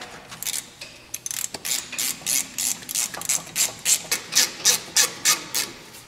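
Rapid ratchet clicks from snugging the front brake caliper bolts on a 2005 Honda Accord, close and sharp, in a steady run of about a dozen pulses that grows louder, with no talking.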